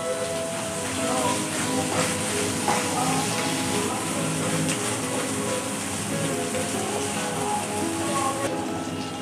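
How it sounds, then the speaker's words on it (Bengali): Green chili paste sizzles in hot oil as it is stirred, making a dense, steady hiss that fills the whole stretch without a break. No one speaks. "এবার আমি এটা একটু দিয়ে তেলের মধ্যে নেড়ে নিচ্ছি"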